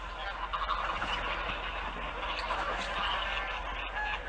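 A dense flock of migratory waterfowl, geese or ducks, calling on open water in a continuous, overlapping chorus of honks, fairly loud and steady throughout with no gaps.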